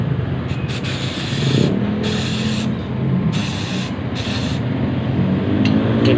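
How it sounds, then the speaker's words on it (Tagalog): Carb cleaner is sprayed into a motorcycle carburetor that took in water. A steady, close aerosol hiss runs throughout, rising and falling slightly with a few brief breaks. "Pwede naman kasi ito siya, CVT cleaner, FI cleaner, throttle body cleaner. Ito yung i-spray natin."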